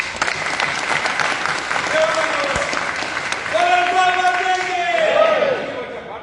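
A church congregation in Pune bursts into loud, sustained applause, dense clapping with scattered cheers and voices rising through it, swelling louder toward the end.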